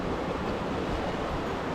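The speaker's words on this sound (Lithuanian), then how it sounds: "Čia vanduo bėga." Water spills over a small dam in a steady, close rushing wash that holds evenly throughout with no voices.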